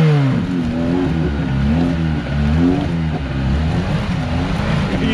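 A Lada Niva stuck in mud revs its engine hard and steadily, a loud continuous drone with rising and falling pitch sweeps, close by and uninterrupted for the whole stretch.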